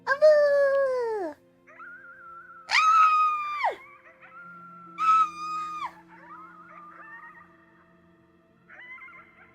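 A person imitates howling at the moon with long, loud, falling 'awoo' cries, three drawn-out howls separated by quieter sustained tones, vocal and close.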